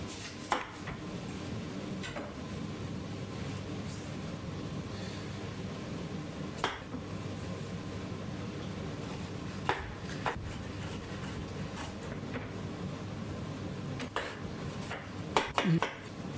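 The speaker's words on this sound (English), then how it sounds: "Chop onion." An onion being chopped with a knife on a board, sparse, irregular sharp taps scattered over a quiet kitchen background, with a brief flurry of quicker cuts near the end.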